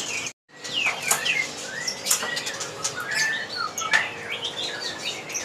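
White-rumped shamas (murai batu) at the Pramuka bird market kiosk give bright chirps, whistles and sweeping calls. Wing flutters and other birds are mixed in against a busy market background, with a brief dropout near the start.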